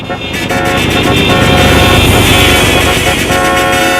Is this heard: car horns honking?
yes